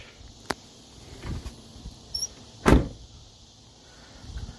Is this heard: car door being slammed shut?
yes